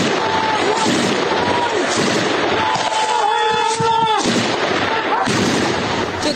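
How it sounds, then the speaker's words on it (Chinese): Gunfire rattles in close-range combat between Ukrainian and Russian forces, a dense, continuous barrage of loud shots and blasts filling the scene, with shouting voices mixed in. "枪声越来越近"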